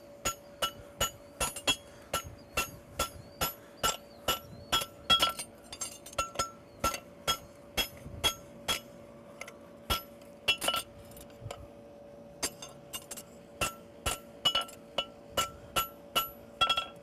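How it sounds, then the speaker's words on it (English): A hammer clipping a horseshoe on an anvil, producing a long series of sharp ringing metallic strikes in a fairly regular rhythm, with brief pauses, bright and close with no voices. "I use the same technique for clipping all my shoes with a hammer."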